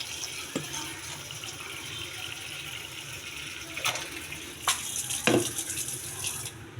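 Grapes get rinsed under running tap water, a steady near splashing stream broken by a few sharper gushes and knocks as the fruit is handled, with no one speaking.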